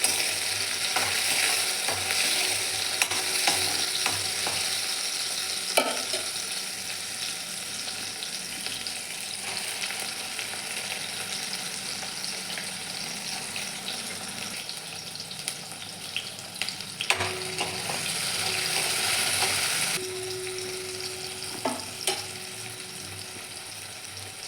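Dal and tomatoes fry in a pan for a ridge gourd bhaji, a steady crackling sizzle with occasional scraping stirs and clinks of the spoon throughout, no talking.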